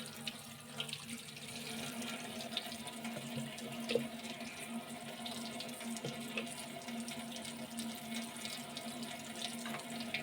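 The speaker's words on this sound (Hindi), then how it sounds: "छानने के बाद इसके ऊपर ठंडा पानी डालेंगे ताकि ये आपस में चिपके ना।" Cold tap water runs steadily over freshly boiled, drained macaroni in a kitchen sink, a continuous close splashing stream with no talk.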